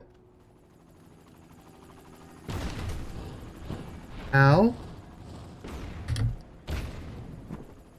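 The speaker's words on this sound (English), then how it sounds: "am horrible at dodging these explosions" Explosions in the video game Secret World Legends, several loud broadband bursts a couple of seconds apart with a tonal sweep between them, while someone speaks briefly over the action.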